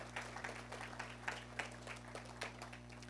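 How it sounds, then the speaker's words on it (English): A church congregation at an annual staff and elder update applauds finance committee members, scattered hand claps sounding faint and distant over a steady electrical hum. "So please give them a round of applause as well."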